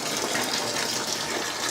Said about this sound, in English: I want to now put in a few litres of hot water.